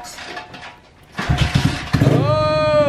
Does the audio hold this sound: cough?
no